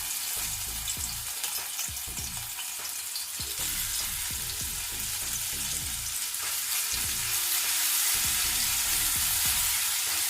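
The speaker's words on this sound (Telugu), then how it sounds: "ఇప్పుడు ఆయిల్ వేడైపోయింది కదా, ముందుగా మనం గ్రైండ్ చేసి పెట్టుకున్న ఈ పేస్ట్ని వేసుకోవాలి" Ground spice paste for rasam vada fries in hot oil, giving a continuous close sizzle with frequent clinks and scrapes of a spoon against the pan, no voices.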